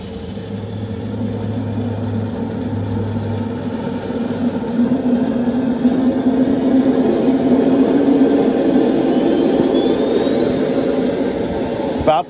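A Jakadofsky Pro Edition jet engine idles with its heat setting turned down, giving a steady, loud turbine roar with a whining tone that climbs slowly, holding close and constant for about twelve seconds.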